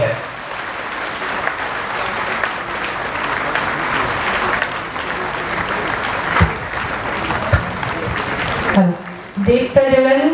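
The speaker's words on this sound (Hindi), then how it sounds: "हमारे तालियां कम ना हो जब ये दीप प्रज्वलन हो रही है." A ceremony crowd claps continuously during a lamp-lighting at a foundation stone inauguration, loud sustained applause that tapers near the end as a voice begins talking over it.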